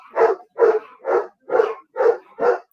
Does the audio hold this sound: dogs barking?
yes